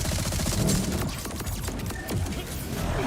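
Rapid bursts of automatic gunfire from a Borderlands video game weapon, the Bullet Buddy Deluxe, unloading on an enemy in dense crackling volleys with mechanical clatter, loud and close.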